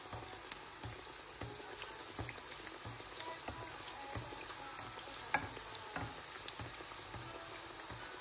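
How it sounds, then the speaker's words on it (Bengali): Mughlai paratha frying in oil in a home kitchen, a steady soft sizzle with scattered pops and crackles throughout, fairly quiet and continuous with no talking. "এভাবে আমি সবগুলো মোগলাই পরোটা ভেজে নেব।"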